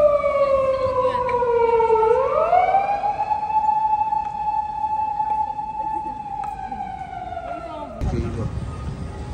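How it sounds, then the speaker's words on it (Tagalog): An ambulance siren wails loud and close, its tone sweeping down then rising and holding steady before cutting off, with a voice talking over it and traffic noise underneath. "may ambulansya baka"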